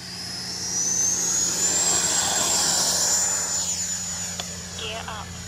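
E-flite Viper 90mm electric ducted-fan RC jet flying overhead at dusk, a loud sustained high-pitched whine that rises and holds across the pass, with faint talk underneath.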